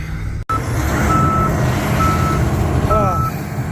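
A truck reverses on a farm during corn harvest, its high backup beeper sounding in repeated steady pulses over a loud, close diesel rumble.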